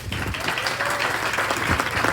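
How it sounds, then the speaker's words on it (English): A crowd claps at a hospital open house, a loud, dense burst of applause from many hands close by, sustained and even with no voices. "I would like to think that applause is truly for me"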